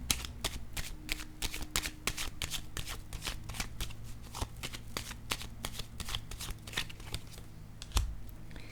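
Tarot cards shuffled and laid down close up, a rapid run of crisp riffling snaps and flicks with a soft thump near the end, faint room tone beneath.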